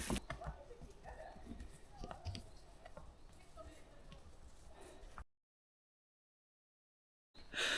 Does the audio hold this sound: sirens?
no